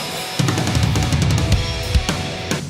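A rapid run of drum hits tumbles across toms and snare, with several heavier accents and crash-like bursts, loud and close with no talking.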